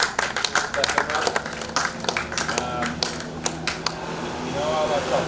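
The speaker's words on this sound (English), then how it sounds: "give yourselves, especially young ones, a round of applause for stepping up" A room full of people at a tennis prize giving claps in a round of applause, scattered sharp hand claps that thin out and trail off as talking continues.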